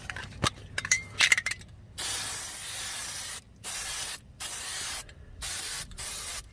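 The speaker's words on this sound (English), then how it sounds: "spray it with some lube, put some grease on it" Fluid Film lubricant hisses out of an aerosol can onto the brake parts of a 2005–2010 Mk5 Jetta in five steady bursts, after a few metallic clinks of parts being handled.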